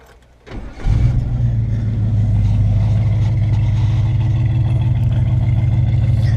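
A 1962 car engine cranks briefly, catches and settles into a steady, rumbling idle, close up and loud with no talk.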